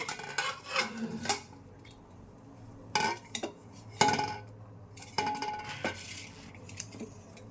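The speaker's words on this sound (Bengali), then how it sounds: "আর এখানে পেঁয়াজ আর টমেটো কেটে নিয়েছি একটা। এখন ঢেলে দিলাম।" Chopped onion and tomato are tipped into a pan for a prawn dish, producing a few clattering, scraping bursts of utensil on metal, fairly quiet and near.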